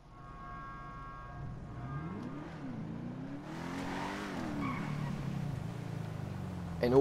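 The Ubermacht Revolter in Grand Theft Auto 5 drives with its engine note climbing and dipping as revs change, a steady motor drone with a burst of road or tire noise partway through.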